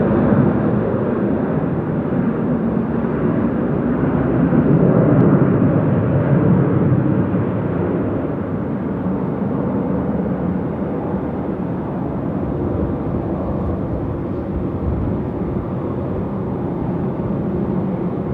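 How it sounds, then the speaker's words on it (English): A Boeing 747's jet engines spool up at night on runway 16R at Sydney Airport, a loud, continuous, distant roar that swells slightly and holds steady throughout. "747 spool up."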